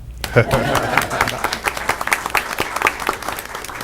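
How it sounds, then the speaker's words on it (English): Audience applause fills a school board meeting, a steady patter of many hands clapping at close range that carries on throughout. "And in 1 second, we can clap."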